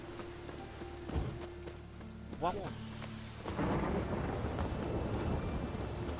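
Rain and rolling thunder in The Witcher 3, a steady wash of rain with a low rumble that swells and stays loud in the second half, with a brief spoken word over it.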